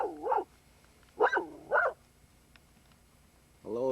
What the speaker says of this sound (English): uh-oh, I hear the dog